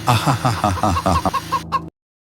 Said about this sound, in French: Je suis le roi des poulets.